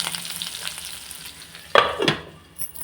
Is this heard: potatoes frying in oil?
yes